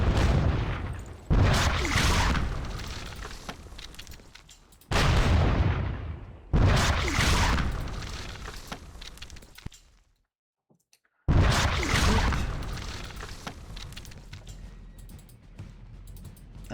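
Cannon fire in an American Revolutionary War video game set at Battle Road: several heavy, close booms, each with a long rumbling tail, arriving at uneven intervals with a brief near-silent gap before the last blast.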